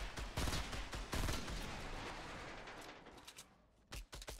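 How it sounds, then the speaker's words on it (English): Gunfire in the Fortnite Battle Royale video game: dense, loud bursts of rapid shots in the first half, then thinning to scattered single shots near the end. "I'm shooting that right in the middle."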